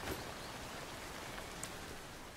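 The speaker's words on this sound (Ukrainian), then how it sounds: "О, дощик пішов." Rain falls in the survival video game Once Human as a steady, even hiss of broadband patter, fairly quiet and unbroken, with a few faint droplet ticks and no talking.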